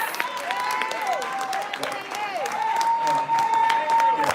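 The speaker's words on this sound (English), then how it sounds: "we want to ask everybody to give a round of applause to Mayor Lightfoot" An audience applauds Mayor Lightfoot at a civic meeting, the clapping and cheering heard under a voice calling out, with sustained tones and feedback-like warbles running through.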